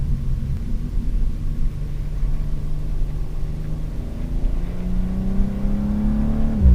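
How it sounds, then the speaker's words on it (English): A BMW M2 G87 accelerates hard on a highway, its engine droning steadily and then climbing in pitch through a rising pull, heard fairly close under road rumble with no talk. "I just was able to rip the car for the first time"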